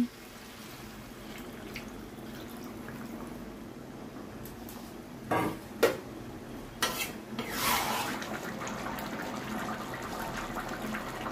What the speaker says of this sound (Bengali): মশলাটা তেল ছেড়ে দিয়েছে, এবারে জলটা দিয়ে দিচ্ছি